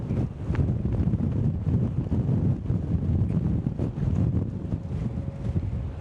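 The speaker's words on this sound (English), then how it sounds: "there's just so much wind" Strong wind buffeting a microphone outdoors in Sydney, Australia: loud, continuous low rumble and gusty blasts throughout, close and overpowering, with no speech.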